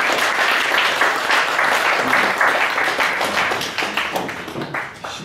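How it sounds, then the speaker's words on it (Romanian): Steady audience applause with dense clapping that fades slightly toward the end, following a Romanian motivational talk; no speech over it. "În acest moment puteți să aplaudați."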